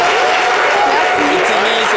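Applause from a live audience on a French talk show, a dense steady wash of clapping lasting the whole moment, with voices mixed in underneath.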